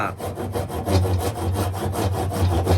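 A hand saw rasps through wood in quick, steady back-and-forth strokes, close and fairly loud, with no talking.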